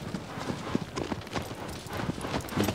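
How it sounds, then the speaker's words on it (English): Horse hooves clip-clop at a steady, rhythmic trot in the video game Shadow of the Colossus, moderately loud and close, with no one talking. "It's really nice to just go around with your horse."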